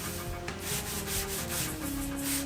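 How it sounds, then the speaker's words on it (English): Sandpaper rubs back and forth along plywood edges on a desk build, a quick rhythmic scratching of several close strokes with no talk. "I could clean it up with sandpaper and hide those ugly plywood edges"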